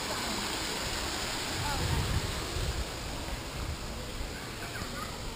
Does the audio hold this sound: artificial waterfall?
yes